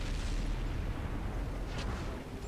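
Tank cannon fire in World of Tanks on Xbox One, a deep booming blast with rumbling low-end decay, loud and dense, no voices over it.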